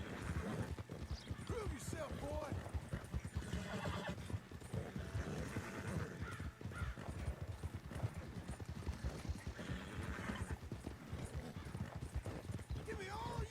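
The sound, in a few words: Brindle horse galloping and whinnying in the video game Red Dead Redemption 2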